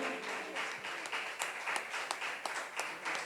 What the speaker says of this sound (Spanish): más fuerte ese aplauso porque es para Cristo